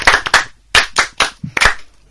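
A class clapping during a French lesson: a short burst of quick, uneven hand claps from a small group, close and crisp, lasting about two seconds.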